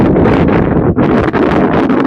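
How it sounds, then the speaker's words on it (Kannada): Strong wind at a dam buffets the microphone with loud, rough gusts that dip briefly twice, then roar on, with no voices heard. "ಒಂದ್ ಕಡೆ ಗಾಳಿ"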